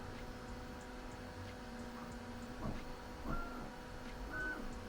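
A K1 Max 3D printer printing a vase, with a steady mechanical hum and faint stepper-motor whines and ticks, occasional brief rising tones, close and moderately quiet with no talking.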